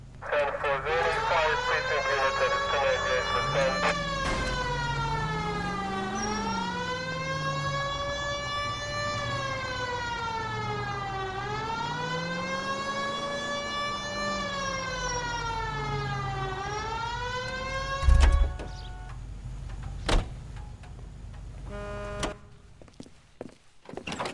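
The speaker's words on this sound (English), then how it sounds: "Hit the siren." A police car siren in the video game L.A. Noire wails in long rising and falling sweeps, loud and close over engine rumble, for most of the stretch before dropping out near the end among a few sharp knocks.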